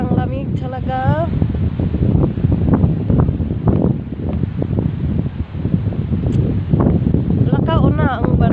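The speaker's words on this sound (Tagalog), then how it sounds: "So windy" Strong outdoor wind buffets the microphone in steady, rough gusts throughout, while people talk over it nearby.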